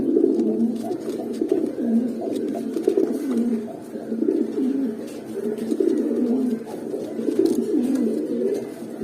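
Several pigeons of silver, hammer and mongoose-colored breeds coo steadily in a loft, low throaty calls repeating in overlapping rhythmic waves, fairly close and continuous with no talk.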